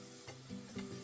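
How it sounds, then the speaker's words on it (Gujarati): Garlic-chili paste sautéing in a pan with cinnamon, cloves and curry leaves for Kathiyawadi-style white kadhi, with a soft steady sizzle broken by two brief stirring scrapes. "લસણ અને મરચાંની પેસ્ટ છે તો એને પણ એડ કરી દઈશું અને સરસ એવું સાતળી"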